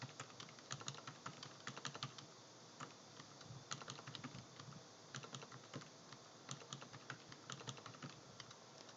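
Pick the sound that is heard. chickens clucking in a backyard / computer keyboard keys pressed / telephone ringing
computer keyboard keys pressed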